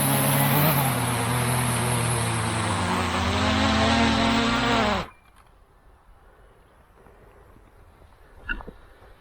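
A DJI Mini 3 Pro drone with a damaged propeller gives a loud, close, buzzing whine whose pitch wavers and dips, then cuts off abruptly midway, leaving near silence broken by one faint knock.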